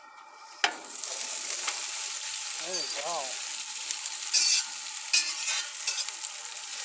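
Veggies and burgers sizzle steadily in olive oil on an outdoor grill, a continuous close hiss with a sharp clatter near the start and brief brighter spurts later, while someone speaks a few words.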